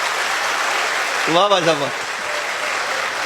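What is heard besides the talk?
audience applause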